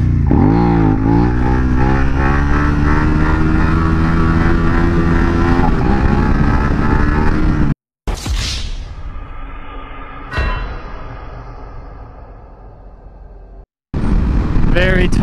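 A 2019 Suzuki SV650X motorcycle revving loudly in second gear as the rider attempts a clutch-up, engine roaring close to the microphone with wind noise, then abrupt cuts and a lower rumble as the throttle drops.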